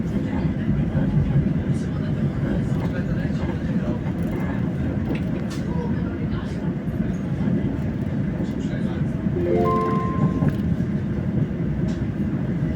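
Trains at Padova railway station make a steady, loud rumble throughout, with a brief high metallic squeal near the end.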